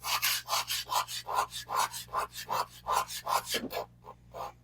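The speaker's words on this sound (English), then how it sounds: "then you can just start sawing on it there" Rhythmic back-and-forth rasping strokes, about a dozen in steady succession, close and distinct, as a small hand grout removal saw scrapes through tile grout.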